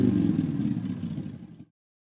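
iPhone motorcycle ringtone: a loud, rough, low engine rumble with rattly revving texture, sustained for about a second and a half before cutting off abruptly, with no voices.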